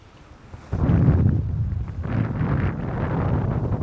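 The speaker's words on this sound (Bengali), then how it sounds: "দারুণ ঢেউ, দারুণ ঢেউ" Rough sea waves pound the open shore of Mousuni Island, a loud, continuous roar of surf mixed with wind buffeting the microphone, swelling sharply after a quiet start and staying heavy throughout.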